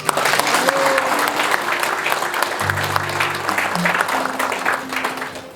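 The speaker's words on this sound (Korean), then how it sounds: "환영의 큰 박수를 보내주시기 바랍니다." Warm welcoming applause fills a hall at a provincial governor's meeting with hometown associations, dense and steady throughout, with faint tones and murmurs beneath.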